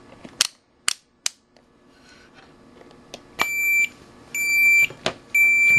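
A multimeter's continuity tester beeps loudly: several sharp probe clicks first, then three long, piercing steady tones separated by short gaps, with a click between them.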